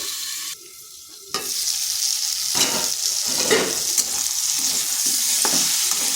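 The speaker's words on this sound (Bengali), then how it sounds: "আলুটাকেও পটলটার সাথে ভেজে নিলাম।" Potato and pointed gourd fry in a pan for a pumpkin dish, a steady close sizzle with stirring scrapes that begins after a short quiet pause and carries on without talk.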